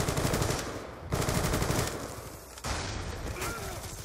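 Rapid bursts of SMG fire from Black Ops 2 rattle loudly in three long volleys separated by brief pauses, with no talk over them.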